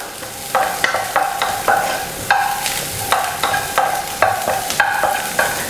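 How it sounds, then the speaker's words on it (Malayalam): Carrots stirred in a pan while making restaurant-style egg fried rice give a run of scraping, clattering utensil strokes at a steady rhythm over a soft sizzle, close and fairly loud with no talk. "ക്യാരറ്റ് ചേർത്ത് കൊടുക്കാം. നന്നായിട്ടൊന്ന് മിക്സ് ചെയ്ത് കൊടുക്കുക."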